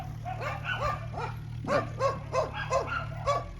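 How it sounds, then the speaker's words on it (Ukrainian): A dog barks repeatedly in quick, yappy bursts, fairly close, with a steady low hum underneath. "Ось бачите, собака. Собака пробігся."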